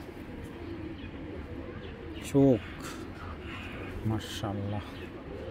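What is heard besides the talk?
racing pigeons cooing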